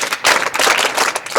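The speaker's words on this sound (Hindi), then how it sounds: "ताली बजा।" Crowd of people clapping at a Mahakumbh 2025 gathering in Prayagraj, a loud, close burst of dense applause that swells, dips briefly and continues.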